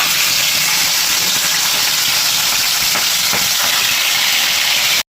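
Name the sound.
fish frying in hot mustard oil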